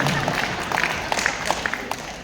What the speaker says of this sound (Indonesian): Tepuk tangan lagi Bapak.